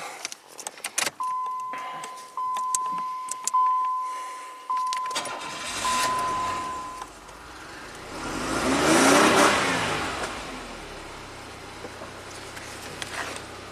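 A 1990 Buick Regal V6 suffering severe low power: keys jangle close up, then the starter cranks and the engine catches, idling and revving up in a broad swell before settling back to a low steady run.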